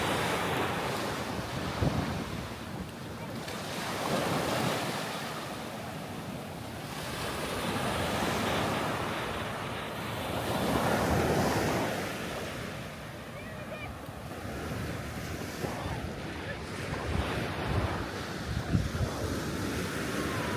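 Waves wash onto an empty beach in Langkawi while steady wind buffets the microphone, the surf swelling and easing in a continuous roar.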